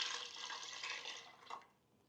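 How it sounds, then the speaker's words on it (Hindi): Water is poured into a pot of soaked urad dal, about 600 ml, a steady close splashing and trickling pour that tapers off near the end. "600 ml पानी जो है मैं इसके अंदर डाल रहा हूँ।"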